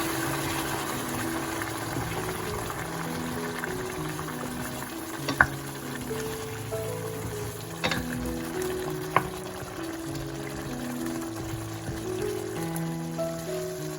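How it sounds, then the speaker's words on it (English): Vegetable juice diluted with warm water pours and splashes into a simmering pot of Greek cauliflower stew in tomato sauce, with steady bubbling and sizzling, a few sharp clinks of utensils, and tones humming underneath. "And then I add my vegetable juice."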